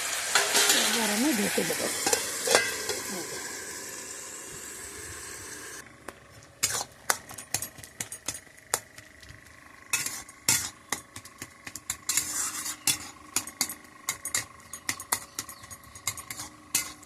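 Prawns sizzle and fry in a pan, a dense hiss up front that drops into sparse crackles and pops, with a faint clatter of stirring near the start.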